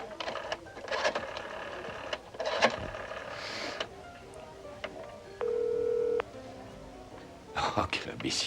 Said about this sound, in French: Au lieu de faire le numéro de bureau de Jamie, je viens de composer mon numéro